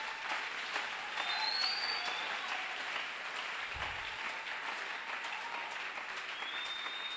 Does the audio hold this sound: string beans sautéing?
no